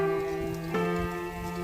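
Heavy monsoon rain pouring steadily on open farmland, a continuous near wash of drops with a faint brief knock partway through, under strong steady hum tones.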